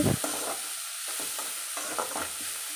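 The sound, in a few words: vegetables stir-frying for egg hakka noodles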